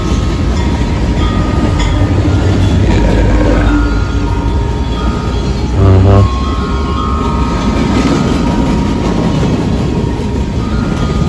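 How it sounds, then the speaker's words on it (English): A CSX freight train, the L134, rolls past on the railway with a loud, steady rumble of wheels and cars, swelling briefly in the middle of the pass. "another train's about to appear coming southbound on the left side"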